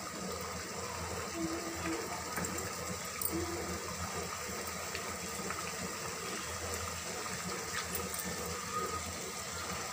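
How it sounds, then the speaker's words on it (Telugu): Water is poured into a pan of curry as a steady, gushing wash of sound that stays even and continuous throughout, fairly close and moderately loud, with no voices. "ఇంకా కొంచెం వాటర్ పడతాయి వేసుకుందాం."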